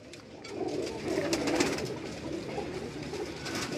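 Pigeons cooing on a Karachi rooftop, soft repeated throaty coos from a few birds close by, fairly quiet and continuous with no one talking.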